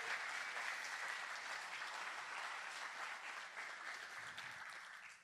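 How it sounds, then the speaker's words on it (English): Sustained applause from an audience at a college spring opening day, honoring newly appointed deans; dense, steady clapping that holds evenly for several seconds, then begins to thin and fade near the end, with no voices over it. "one more round of applause for the new deans"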